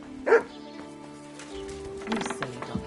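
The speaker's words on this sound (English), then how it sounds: "You silly doggy." A dog in the medieval game Kingdom Come 2 gives one sharp bark early on, followed by hoofbeats, horse sounds and background game audio.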